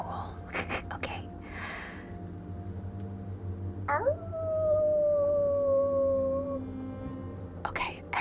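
A person imitates a wolf howl with one long, sustained voiced note that rises, then holds and wavers for a few seconds. Soft breathy whispering and rustling come before it, all close and quiet.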